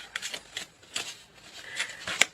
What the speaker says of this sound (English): One more card, and then we will cut the deck.